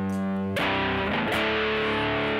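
DSP-programmed guitar distortion with crossover distortion and a compressed pentode power amp tone: a sustained buzzy, harmonically rich chord that is struck again partway through and rings on loud without talk.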